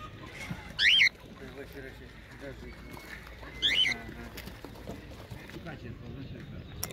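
Large roosters at an outdoor poultry market give two short, loud calls a few seconds apart, rising over low background bustle and murmuring voices.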